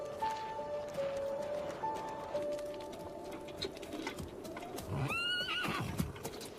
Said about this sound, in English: I'll hitch up the horse.